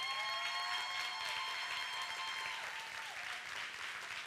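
Audience applauding warmly during a Spanish-language church program, a steady dense clapping crowd with faint tonal music or hum running underneath.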